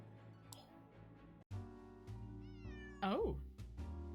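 A cat in a Nancy Drew video game gives a clear meow near the end, set against a soft musical background with a few scattered clicks.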